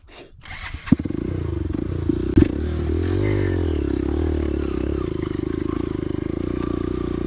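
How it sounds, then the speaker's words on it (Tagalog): A motorcycle rides over a rough, rutted road, its steady engine drone loud and close throughout, with rattles and jolts from the bumps near the start. "palaban talaga itong motor natin"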